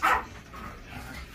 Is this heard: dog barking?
yes